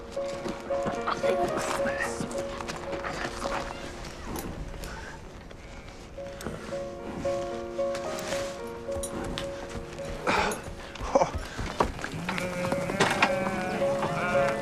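Sheep and goats bleat repeatedly, some near and some farther off, as a large herd moves on a winter migration, with hoof clatter and people talking over the calls.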